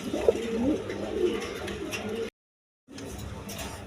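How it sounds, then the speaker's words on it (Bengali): A pair of American Lakkha pigeons coo softly at close range in a loft, in low repeated murmurs broken by a brief silent gap, with faint speech nearby. "দর্শকবৃন্দ এখানে এক পেয়ার আমেরিকান লক্ষা কবুতর আছে দেখেন"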